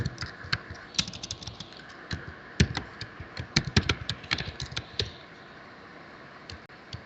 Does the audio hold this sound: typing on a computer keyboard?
yes